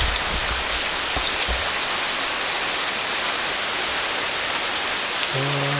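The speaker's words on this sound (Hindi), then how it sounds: "फिलहाल आप लोग देख सकते हो बारिश काफ़ी ज़्यादा तेज़ है।" Heavy rain pours down outdoors on a college road, a loud, dense and steady hiss of drops hitting the ground throughout, with a brief tonal sound near the end.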